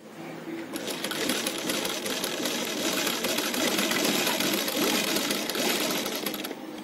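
Sewing machine stitching fabric for a child's umbrella frock, a steady, rapid mechanical whirring and clatter running continuously at close range for several seconds.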